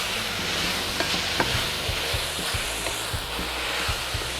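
Steamed vegetables sizzle in a sauté pan while being stirred, a steady close hiss of frying broken by a series of sharp scraping and clacking stir strokes, with no talking.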